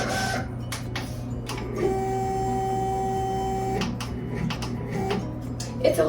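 A vinyl cutter slices through white vinyl with a steady, noisy mechanical drone, punctuated by brief clicks and whirring carriage moves, and a sustained tonal whine in the middle stretch.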